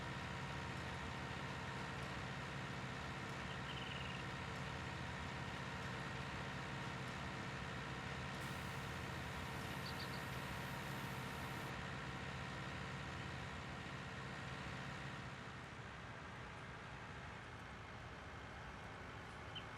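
A tractor engine in Farming Simulator 19 drones steadily at a constant low hum, running continuously without change in the background.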